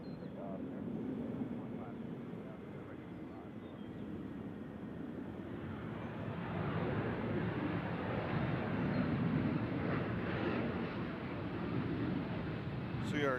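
A jet airliner takes off at Nashville International Airport, a broad roar that builds and stays loud and steady. Air traffic radio talk runs faintly underneath.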